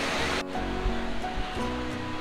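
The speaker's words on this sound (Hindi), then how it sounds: "पूरा अमरीला वाटरफॉल मैंने आपको दिखाया" A steady, full roar of water pours down at Umbrella Waterfall, loud and continuous with a broad, even rush throughout and no voices.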